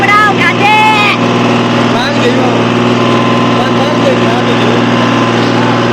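John Deere tractor engine revving hard near 2400 RPM under load, a loud, steady, dense mechanical roar running the whole time with a strong constant hum, plus brief whistling tones near the start.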